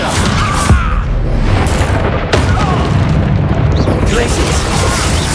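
A Descendo spell slams down with a heavy booming impact during a Hogwarts Legacy duel, amid loud continuous combat effects and rumbling, close and dense with sharp transient hits.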